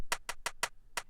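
A handclap groove with exaggerated tremolo sweeping left to right, six sharp claps in a quick, slightly uneven rhythm, bright and dry, alone and upfront.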